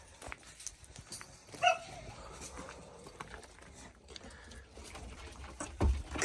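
A dog barks a few short times at a distance amid faint outdoor rustling and low murmuring.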